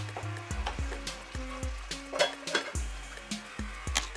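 Eggplant and tomato sauce simmering in a covered pan, a soft steady sizzle and bubbling with light repeated clinks and knocks, close and fairly quiet.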